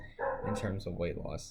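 A small dog yaps in a few quick bursts close by, mixed in with someone talking over it.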